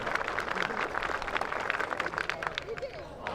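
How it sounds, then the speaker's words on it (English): Schoolchildren at a college sports day clap together in a fast, steady rhythm for a high jumper, a dense outdoor crowd patter with murmuring voices mixed in. "They start off with a quick clap."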